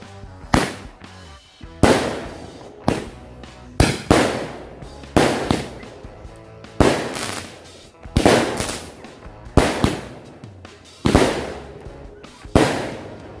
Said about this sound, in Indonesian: selanjutnya kita nyalakan 2 buah mercon Roman candle sekaligus